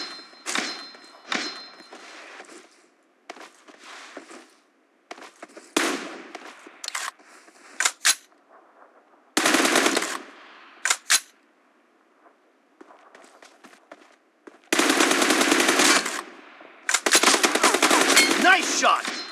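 Bursts of M416 rifle fire and single shots from a PUBG Mobile 1v1 room match crack out irregularly, with scattered short volleys building to longer, louder sustained bursts near the end.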